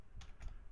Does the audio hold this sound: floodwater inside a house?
no